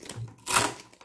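A small thermal receipt printer used with a cashier sales app prints a receipt, giving a brief buzzing feed burst followed by a louder, longer whirring run, heard alone and close.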